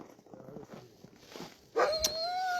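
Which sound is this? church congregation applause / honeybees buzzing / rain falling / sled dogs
sled dogs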